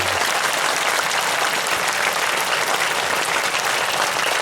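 Close, dense clapping fills the hall as a Thakor community gathering applauds, a steady roar of many hands without a break for the whole stretch.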